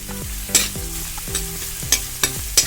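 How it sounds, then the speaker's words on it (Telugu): Finely chopped onions fry loudly in a pan for Telangana chicken curry, a close sizzle punctuated by several sharp spoon scrapes and knocks against the pan as they are stirred. "ఇప్పుడు ఇందులో వేసుకుందాం మనం చిన్న చిన్నగా కట్ చేసుకొని ఇలా వేసుకున్నాం ఒకటి ఉల్లిగడ్డ"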